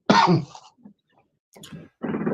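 A single harsh cough up close in a seed room, followed by a short wheezy catch of breath and then a second rough, throaty cough.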